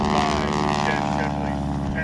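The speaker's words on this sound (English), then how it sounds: "Here's that C-47 Skytrain I talked about earlier. What a beautiful World War II aircraft" A C-47 Skytrain, a World War II twin-propeller transport, drones steadily overhead at an airshow in San Marcos, Texas, its engine hum loud and continuous beneath a voice talking.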